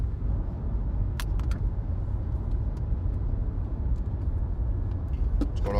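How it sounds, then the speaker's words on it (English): A car cabin on the move, with a constant low road rumble and engine hum from inside and occasional faint clicks and rattles over the drone. "We're in the car right now. John's driving."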